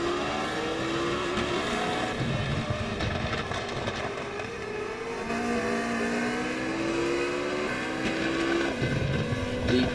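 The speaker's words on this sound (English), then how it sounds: "The black Lotto Sport car of Dan Peters." Formula V8 race cars lapping the Catalunya circuit during a race, including a black Lotto Sport car, with loud, continuous engine whine shifting in pitch as cars accelerate and pass, no talk.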